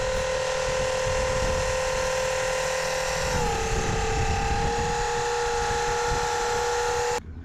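An electric outboard motor running on power tool batteries gives a steady, loud whine with a constant hum. Partway through, the pitch drops slightly and holds, and the sound cuts off abruptly near the end.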